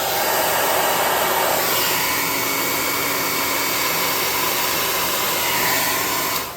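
A hair dryer blows steadily at close range onto a damp miniature tree base, a loud continuous whoosh that holds for several seconds and then cuts off, with no talk.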